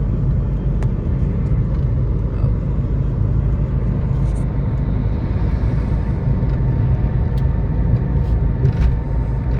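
A car cruises on a highway with a loud, steady engine and road rumble from inside the cabin as the driver shifts up into fourth gear, with faint clicks and a voice talking over it.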